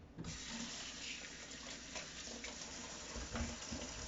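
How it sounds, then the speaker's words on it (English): Tap water gushing into a kitchen sink over a batch of dirty apples being washed, a steady close splashing rush that starts abruptly and runs without pause, with occasional brief clunks. "Let's wash apples."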